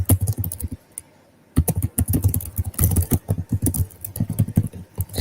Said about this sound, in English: I'm typing this all over.